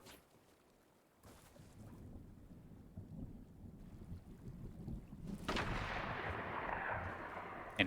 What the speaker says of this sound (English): we do have some shots fired here